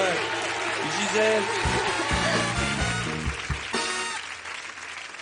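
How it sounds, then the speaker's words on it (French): Clapping from a small group starts up and keeps going while a voice speaks over it, with some murmuring in the background. "Allez, on va applaudir"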